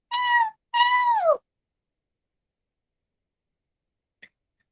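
A cat gives two drawn-out meows in quick succession, close and clear, then falls silent apart from a tiny brief chirp near the end.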